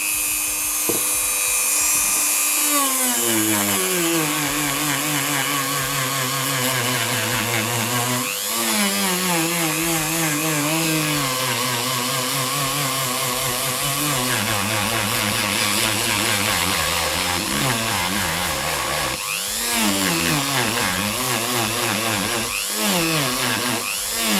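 A Procraft PG400 rotary engraver cuts into metal at reduced speed, giving a loud, continuous high-pitched whine with shifting pitch and repeated bursts of harsh grinding as the bit bites, running alone for the whole stretch.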